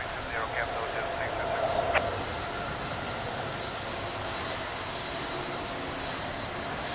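An airliner taxis at Lisbon Airport in the rain, a steady broad engine roar mixed with rain hiss that holds evenly throughout, with a brief tonal blip near the start.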